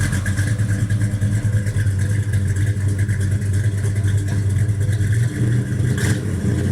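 A Buick muscle car engine revs loudly and steadily at close range, giving a continuous deep rumble with a slight clatter and no pause from start to finish.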